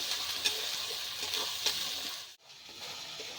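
Chilli paste sizzling steadily in a pan for a chicken curry, with soft scraping stir sounds and a couple of sharper spatters before a brief dip, moderately loud and close with no talking.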